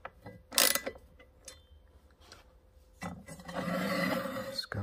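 A Hyper Tough screwdriver drives a screw in, a close scraping, rasping grind that runs steadily for the last couple of seconds after a few sharp knocks and handling noises.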